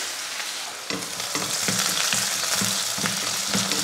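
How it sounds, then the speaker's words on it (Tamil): Mustard seeds, urad dal, onion and curry leaves fry in hot oil, making a loud, dense sizzle with rhythmic spatula scrapes as they are stirred, and no speech. "எண்ணெய் காஞ்சதுமே கடுகு உளுந்து, கடுகு பொரிஞ்சதுமே ஒரு பெரிய வெங்காயம்,"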